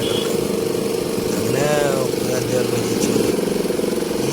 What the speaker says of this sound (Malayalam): സൗണ്ട് എന്താന്ന് വെച്ചാൽ അവിടെ ജനറേറ്റർ സ്റ്റാർട്ടാക്കി അതാണ് അതിന്റെ സൗണ്ടാണ്